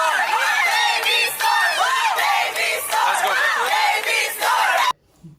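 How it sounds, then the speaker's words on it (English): Crowd cheering loudly for a performer at the end of a show, a dense roar of shouting and whooping voices that stops abruptly near the end. "They were cheering for her at the end."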